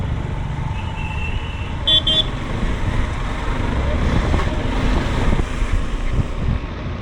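Slow traffic jam in rain on the road near Manali, a steady wash of rain, wind and idling engines with a brief car horn toot early on, fairly loud and continuous.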